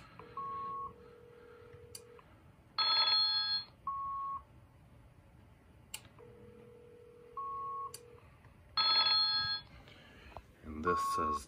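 A call placed from a fax machine rings down the line as a repeating cadence of electronic tones and beeps, broken by louder harsh bursts and ending in a rough noisy stretch.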